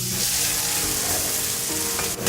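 Capsicum and chorizo fry in hot oil with spices in a paella pan, giving a loud, dense, continuous sizzle close up with faint stirring.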